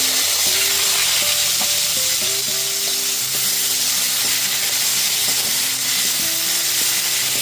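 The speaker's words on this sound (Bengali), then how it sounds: "তারপর এর মধ্যে পেঁয়াজ, রসুন আর কাঁচা লঙ্কার পেস্টটা দিয়ে দিচ্ছি।" Onion, garlic and green chilli paste frying in hot oil, a loud, dense, continuous sizzle and hiss close up, with faint clinks of stirring beneath it and no talking.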